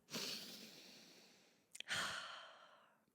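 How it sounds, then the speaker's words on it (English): A single person draws in a long, deep breath and slowly releases it, close and quiet, followed by a second, quicker inhale and exhale with a brief sniff between, with no talking. "Take a deep breath."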